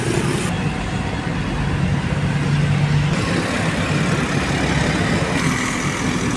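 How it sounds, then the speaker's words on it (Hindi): Steady street traffic: a dense, continuous rumble of car, truck and bus engines idling and moving, constant and fairly loud throughout. "अभी भी देखें मुसलसल इतना ट्रैफिक है"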